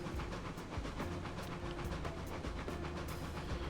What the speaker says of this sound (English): Now this train's about 18 cars long with the tender and caboose included.